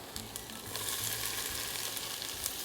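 Onion and scotch bonnet peppers sizzling in a hot pan, a soft, even hiss with faint crackles, quiet and close, with a low hum underneath.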